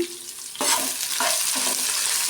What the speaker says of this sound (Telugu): ఇవి ఎక్కువ వేయించుకోవద్దు, లైట్గా వేయించాలి.